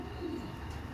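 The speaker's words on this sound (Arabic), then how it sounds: "هذا الطير اللي هو حفيد مباشر البورش 911 وابن بورش العراق مباشر." A racing pigeon gives a soft, brief coo over a steady, faint background hum.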